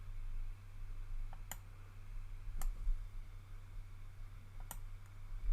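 Computer mouse clicks sound faint and sharp over a low background hum, a few isolated taps with a couple of close double clicks spaced unevenly.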